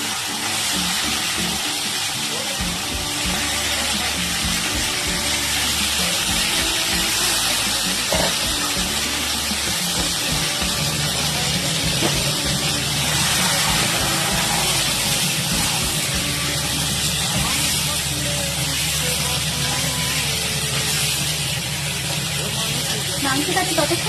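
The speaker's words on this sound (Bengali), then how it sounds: "এবার আমি তেলে দিয়ে দিচ্ছি ম্যারিনেট করে রাখা মাংসগুলো।" Marinated chicken pieces frying in hot oil for a spicy chicken curry, a steady loud broadband sizzle and hiss running throughout, with soft clinks of the pan and a voice talking over it at times.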